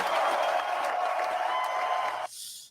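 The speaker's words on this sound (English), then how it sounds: "Give her a round of applause." Studio audience applause greets an arriving guest on a live show, a dense, even burst of clapping that cuts off abruptly near the end.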